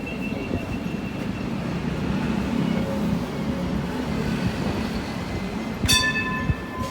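A light rail train rumbles steadily past at close range with a continuous rolling drone, ending in a short, sharp bell-like tone near the end.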